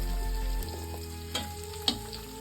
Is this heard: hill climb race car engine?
no